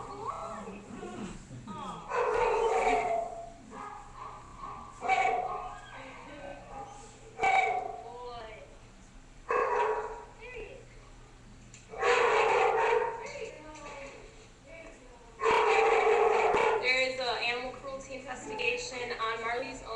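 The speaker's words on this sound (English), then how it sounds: "He's a really sweet dog, very gentle." A gentle, sweet-natured dog lets out bursts of barking and whimpering at irregular intervals, fairly close, over a low steady hum with murmured voices in between.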